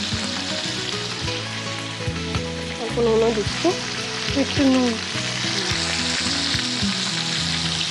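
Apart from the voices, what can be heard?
vegetables frying in a pan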